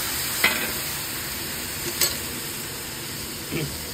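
Spices sizzle steadily in a wok with a soft frying hiss, and a utensil scrapes the pan three times.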